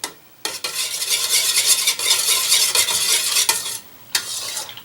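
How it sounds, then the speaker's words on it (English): A spoon stirs dish soap into a liquid in a container, giving a loud, continuous swishing and clinking run that stops briefly twice and then resumes. "I'm going to use my spoon here, and I'm going to mix it all up"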